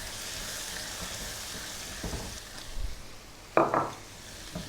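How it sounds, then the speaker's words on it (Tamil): Chopped onions dropped into hot oil with popping mustard seeds, a soft background sizzle broken by a few utensil knocks and a sharp burst of frying near the end, with no talking. "கடுகு பொரிய ஆரம்பிக்குதுங்க. வெங்காயம், வெட்டி வச்சுருக்கிற வெங்காயம் போட்டு"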